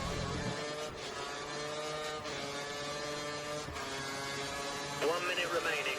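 A Formula 1 car in the F1 2013 game screams through a qualifying lap at the India circuit, its engine note holding high and steady with pitch shifts at gear changes, then a sharp rising rev near the end.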